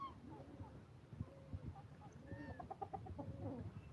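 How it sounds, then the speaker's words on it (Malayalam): A farm hen clucking and murmuring softly near the camera, a run of short rhythmic clucks with a few higher calls, fairly quiet with other fowl faintly around. "കോഴി എന്തോ മന്തിരിക്കുന്നുണ്ട്"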